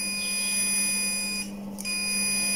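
A multimeter in continuity mode sounds its buzzer, a steady high electronic tone held for most of the clip with a brief drop in the middle, close and clear with no talking.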